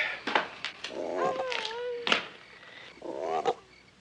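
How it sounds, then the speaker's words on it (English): Close, raspy croaking calls come in several uneven bursts with warbling pitch, separated by brief pauses and sharp clicks. "if you don't cut out that croaking, I might just pull the plug on you"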